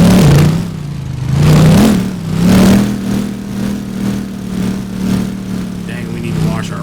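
A rebuilt truck engine revs loudly while driving, its low drone swelling and easing in repeated surges close by, with people talking over it.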